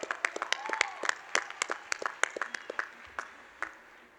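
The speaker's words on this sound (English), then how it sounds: "We can clap, that's good, yes." Sparse, scattered clapping in a large hall at a university undergraduate commencement as business degree candidates come forward, with a few faint cheers mixed in.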